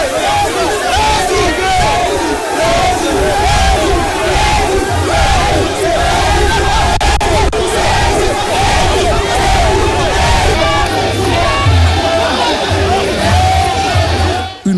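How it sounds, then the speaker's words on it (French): Dense, enthusiastic crowd lining a presidential motorcade route from a grand mosque in Guinea, roaring, cheering and ululating continuously at close range, a loud unbroken wall of voices with shouts and whoops layered through. "Une foule compacte et enthousiaste l'a chaleureusement ovationné"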